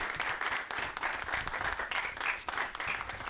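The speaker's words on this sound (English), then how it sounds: "please give a warm round of applause, Mr. Phil Jung, Maryland Venture Fund" Event audience in Columbia, Maryland applauds to welcome a Maryland Venture Fund speaker to the stage, moderate steady clapping from a modest crowd, heard from a slight distance.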